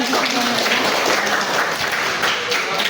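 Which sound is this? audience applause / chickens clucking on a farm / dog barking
audience applause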